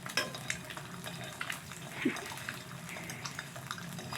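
An egg fries sunny side up in a pan with a soft, steady sizzle and crackle, plus a few light clinks of a utensil against the pan, fairly faint throughout.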